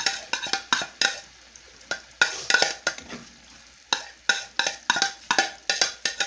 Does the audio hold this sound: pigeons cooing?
no